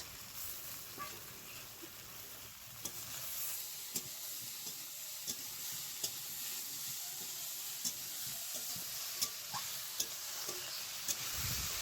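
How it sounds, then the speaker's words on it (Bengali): Raw fish stirred into fried tender okra and vegetables with turmeric in a pan, a quiet continuous sizzle with soft scraping stirs recurring every second or so, close and low, no talking. "কাঁচা মাছটাকে দিয়ে ভালো করে নেড়ে টেড়ে নেব"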